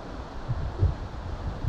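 Gusting wind on a riverbank during a river fishing match, heard as a steady, broad rumbling roar with low buffeting gusts on the microphone.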